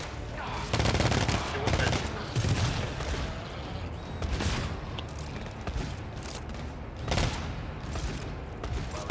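Turret gunfire in the GTFO video game, a sustained fusillade of rapid shots with heavy bursts and booms, loud and continuous over roughly nine seconds, with some voice mixed in underneath.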